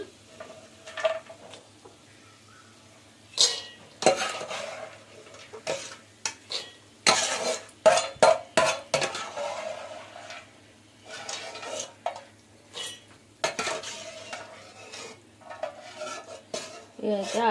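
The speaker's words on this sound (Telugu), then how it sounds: "ఇక్కడ తీసేసుకున్న తర్వాత ఉల్లిపాయలు వేయించుకుందామండి" Onions fried and stirred in a pan for a lotus seed and brinjal curry: irregular metallic clinks and scrapes of a spoon against the pan come in bursts over a faint sizzle and a low steady hum.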